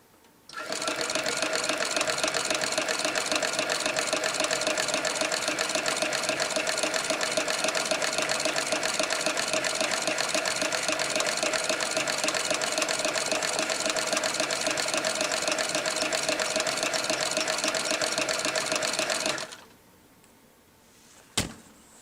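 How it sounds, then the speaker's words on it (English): A sewing machine winds a bobbin in one steady, continuous mechanical whir that runs unbroken for about nineteen seconds before stopping abruptly, followed by a brief click. "Pull the top thread from the needle before winding your bobbin."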